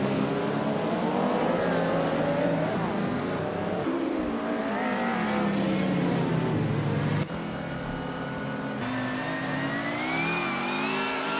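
Race cars roar past and overtake one another, with engines rising and falling in pitch as they accelerate and shift, a dense continuous snarl of several cars at once.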